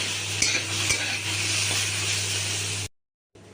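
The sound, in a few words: green beans frying in a pan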